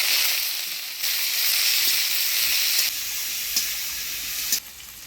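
Chopped onion drops into hot oil already tempered with dried red chillies and radhuni seeds, setting off a loud, steady, close sizzle that hisses continuously with small surges and crackles.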